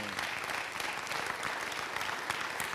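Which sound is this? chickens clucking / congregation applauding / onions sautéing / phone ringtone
congregation applauding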